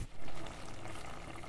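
Broad bean curry with coriander simmering in a pot gives a soft, continuous bubbling and hiss, faint and close, with no talking.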